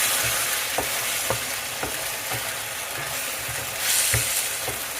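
Balbacua stew with tomato sauce is stirred in a pot, a bubbling simmer broken by repeated scraping knocks of the spoon at a loose rhythm.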